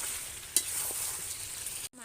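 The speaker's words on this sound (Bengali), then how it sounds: "মাংসটা কেমন ভাজা ভাজা হয়ে গেছে" Meat fries in a pan with chili, cumin and coriander powder, a steady bright sizzle broken by one sharp clink of the stirring spoon.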